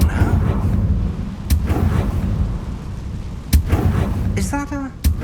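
Blasting-spell explosion in the video game Hogwarts Legacy: several sharp broadband bursts crack out over a low rumbling game backdrop, with a brief shimmering magical flourish near the end and a voice speaking nearby.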